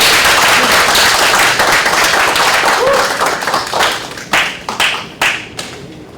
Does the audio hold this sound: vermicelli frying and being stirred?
no